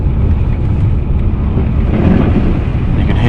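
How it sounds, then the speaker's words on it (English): A Volvo car rolls slowly over snow, producing a loud, continuous low rumble and crunching from beneath the tires, steady and close throughout. "You can hear the snow underneath the car"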